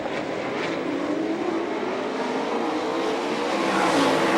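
Sprint cars roar together through a heat race at an All Star Circuit of Champions speedweek event at Fremont, Ohio, a dense, steady engine drone with rising and falling pitch sweeps as the pack passes, loud and continuous with no voices.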